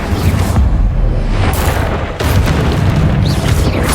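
Incendio fire spell cast in the Hogwarts Legacy video game, a loud roaring whoosh of magical fire with heavy booming bursts, briefly dropping away mid-way before surging again, dense and continuous.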